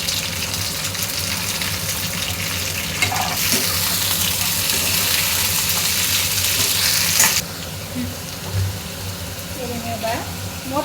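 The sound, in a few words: half kilo of country broad beans frying in the pan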